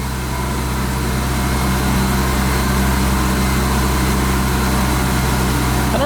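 Supercharged BMW E36 M3 engine idling high just after startup on a standalone ECU, a loud, steady, close drone with a constant low hum throughout.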